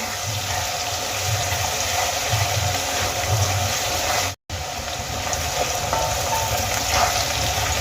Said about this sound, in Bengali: পেঁয়াজগুলো কিন্তু আমি বেশ কিছুক্ষণ ভেজে নিয়েছি